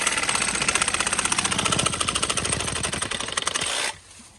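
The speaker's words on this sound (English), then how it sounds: "It's literally like a 2-speed sawzall." A two-speed Sawzall reciprocating saw runs hard through pool plumbing during a pool pump and filter replacement, a loud, fast, steady rattling chatter that holds close for nearly four seconds and then abruptly stops, leaving a faint hum.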